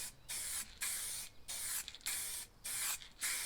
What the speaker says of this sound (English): Just spray it lightly.